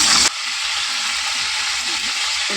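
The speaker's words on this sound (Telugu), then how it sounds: "కరివేపాకు బాగా ఫ్రై అయిన తర్వాత" Curry leaves frying in hot oil for a fish curry, a loud close sizzle that starts with a sharp burst and then settles into an even crackle, with no voice over it.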